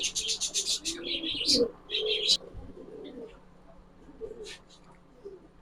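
Soft, low cooing from Giribaz pigeons drifts under chirpy high bird calls and light background chatter, close by and fairly steady.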